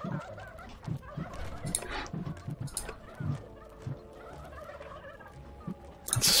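Turkey gobblers in the video game Dungeons 3 let out repeated warbling gobbles and clucks, several birds overlapping in a busy, moderately close cluster, with a louder burst near the end.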